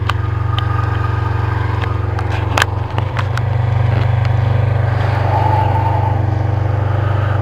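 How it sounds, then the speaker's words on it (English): A Kawasaki Ninja motorcycle rides along a road on an evening outing, with a steady, loud engine drone running continuously and a brief dip in the middle, heard from close range with the rider on board. "just for fun, I'm taking the Ninja out for a little evening ride."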